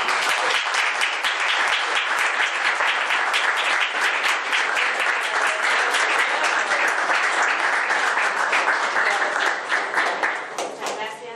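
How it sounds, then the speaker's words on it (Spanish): A lecture audience at a law faculty in Mar del Plata breaks into loud, sustained applause, dense clapping that holds steady for about ten seconds and then begins to thin out at the end. "y pedirles un fuerte aplauso."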